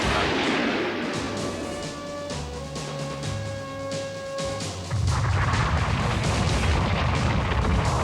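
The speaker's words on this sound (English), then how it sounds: "Blast the mountain to bits and seal them in there for all time." A cartoon explosion blasting a mountain apart: a heavy rumbling blast that swells into a long roaring, crumbling wash of debris and sustained noise, loud and without any voices.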